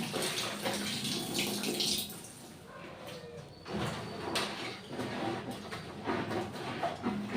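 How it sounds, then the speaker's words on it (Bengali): Clothes being soaked in water with Nirma detergent during a morning wash at home, with soft, irregular sloshing and splashing, moderately close and fairly quiet, with no talking. "কাপড়গুলো নির্মায় ডুবিয়ে নিচ্ছি"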